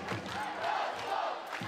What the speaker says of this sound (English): The crowd once again competing with Radotín and Zbraslav chants in the stands